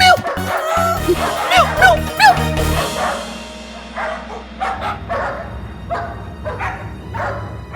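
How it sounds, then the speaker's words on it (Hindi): Several dogs bark in short bursts after a loud, busy opening, the yelps scattered and overlapping at moderate distance like a pack of street dogs chasing through a lane. "गली के कुत्तों की फौज अब तुम्हें पूरी गली दौड़ाएगी"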